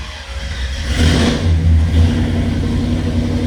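A 1967 Oldsmobile Cutlass convertible resto-mod engine, cold after sitting overnight, catching and rising into a loud, close rev with a deep steady drone.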